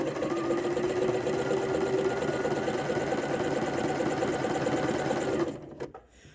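Sewing machine running steadily as it stitches a seam on a dress, a continuous loud mechanical whir that stops abruptly near the end.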